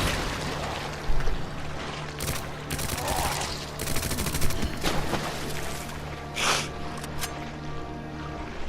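Submachine gun fire from Resident Evil 2 Remake, Hunk's LE5, crackles in dense rapid bursts over a constant droning game soundscape, loud and close, with a few separate sharp impacts later on.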